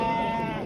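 A single sheep lets out a short, clear bleat up close at a busy livestock bazaar, with faint crowd murmur underneath.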